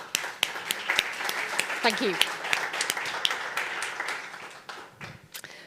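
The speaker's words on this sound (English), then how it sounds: "Round of applause." Audience at a startup showcase event applauding with scattered, moderately close clapping under a presenter's voice thanking someone.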